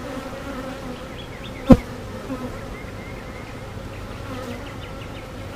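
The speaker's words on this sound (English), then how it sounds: "If they've already swarmed, this is fantastic because of the amount of bees in here." Steady, dense buzzing of many honeybees close by in an open hive, with a single sharp knock or tap partway through.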